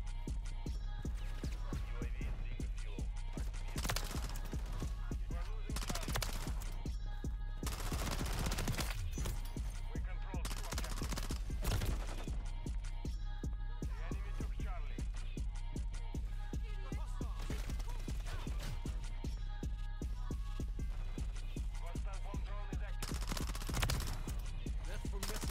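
Repeated bursts of submachine-gun fire in Call of Duty MW3, quick rattling volleys recurring throughout a long stretch at moderate volume, with a voice talking intermittently.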